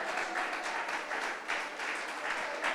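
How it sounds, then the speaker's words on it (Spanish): A church congregation applauds during a sermon, a steady wash of many hands clapping from start to finish, fairly distant and fairly quiet. "Dele aplausos al Rey de Gloria."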